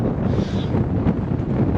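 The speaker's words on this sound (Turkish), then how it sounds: "Vallahi rüzgarı duyuyor musunuz bilmiyorum da." Strong wind at Lake Salda roars and buffets the microphone in a constant, close, low rumble with no talking.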